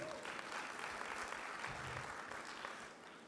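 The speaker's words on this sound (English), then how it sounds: "Clap your hands if you believe that" A church congregation claps together in steady, dense applause that fills the room, holding fairly even and then easing slightly toward the end.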